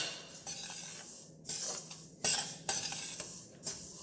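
Black sesame seeds dry-roasting in a pan, with a steady low hiss and bursts of scraping and stirring from a spoon against the metal, close and fairly quiet.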